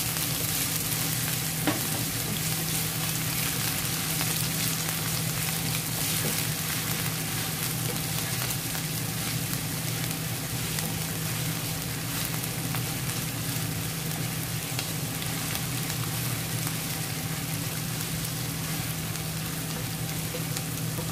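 White onion stirred and frying in a pan for a lamb-mince stuffed naan filling, with a steady loud sizzle and scraping stirs running throughout and no voice.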